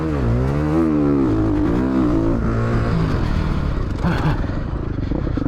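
A Ducati Desmo 450 dirt bike races around a track, its engine loud and close, revving and rising in pitch through shifts, then clattering and roaring unevenly over rough ground.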